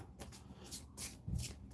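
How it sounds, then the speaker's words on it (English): A deck of D&D encounter cards for a Tomb of Annihilation board game being shuffled by hand: a close run of quick papery riffles and soft slaps, with a firmer thump near the end and no talking. "So let's shuffle. We haven't shuffled this deck yet."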